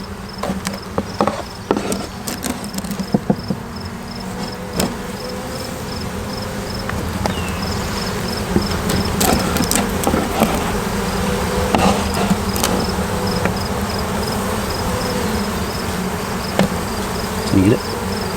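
Newly hatched worker bees buzz steadily up close, joined by scattered small taps and clicks from the comb.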